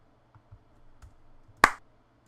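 One sharp body-percussion hand clap rings out with heavy reverb and compression, a single crisp hit that leaves a short tail, preceded by a few faint soft taps.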